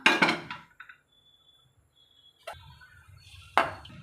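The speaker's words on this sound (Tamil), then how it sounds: "இப்போ நம்ம வந்து குக்கர் வச்சுக்கலாம்" A metal pressure cooker is set down for cooking egg biryani, giving a cluster of loud clanks and rattles at first, then two more sharp metallic knocks after a quiet pause, close up.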